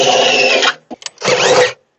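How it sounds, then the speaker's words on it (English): Power drill boring through a tough steel commercial electrical panel, two loud bursts of whining, grinding drilling separated by a short pause with a few brief clicks. "It will not fit through the panel because the hole's too small, so we're gonna have to drill it"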